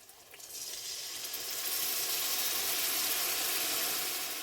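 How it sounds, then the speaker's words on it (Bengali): Spice paste of ginger and cumin fries in a pan for chana paneer, a loud, steady sizzle that swells up quickly and holds as a close, continuous hiss with no talking. "এবারে মশলাটা ভালো করে কষিয়ে নেবো।"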